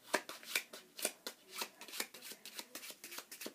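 A deck of playing cards is shuffled for a magic trick, giving a close series of quick riffling and snapping bursts in an uneven rhythm, with faint rustling between them.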